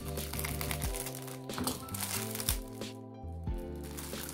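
A plastic bag holding parts of a 1/48 Academy MiG-29A Fulcrum model kit is opened, with close crinkling and rustling over a continuous musical background.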